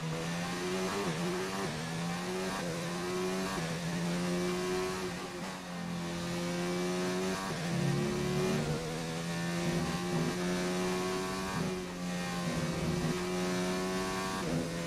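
A Formula 1 engine in the racing game F1 2019 at the Mexico circuit howls continuously for about fifteen seconds, its pitch climbing and dropping repeatedly through gear changes.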